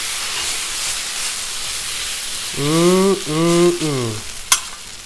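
Oil sizzles loudly on a Blackstone griddle while spicy garlic stir fry noodles are being cooked, a steady close hiss that runs throughout, with a voice speaking briefly over it.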